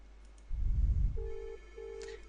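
A software phone ringing during a call transfer in the SwyxIt! 6.25 telephony client, two short electronic ring tones repeated after a low thump, fairly quiet and heard without talk.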